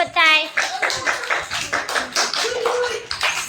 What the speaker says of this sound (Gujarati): પલ્લવી બેન માટે તાળી પાડી દેશે બધાય